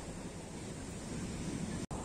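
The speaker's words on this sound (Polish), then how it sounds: "Dziewczyny są zafascynowane falami. Są duże, ale co jakiś czas jest po prostu gigantyczna jedna fala" Large ocean waves breaking on the beach at Konyaalti in Antalya, heard as a steady, loud broadband surf roar with mixed wind noise, one brief dropout near the end.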